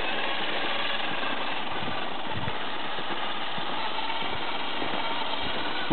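Stock 35-turn electric motor driving an Austar SCX-10ii RC crawler, a steady continuous whine and buzz running the whole time at moderate level, close by, with no talk.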